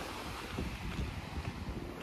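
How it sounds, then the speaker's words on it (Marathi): Sea waves wash onto the beach behind Redi Ganpati temple in coastal Konkan, a low steady surf roar mixed with wind rumble on the microphone, fairly faint and with no voices. "तर हा या मंदिराच्या मागचा समुद्र किनारा."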